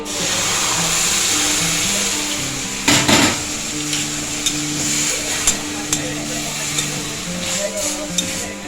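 Milk poured into a hot cooking pan for coconut and melon seed laddoos, a soft hiss and pour over pan and utensil clatter, with a sharp metallic clank partway through and faint kitchen background.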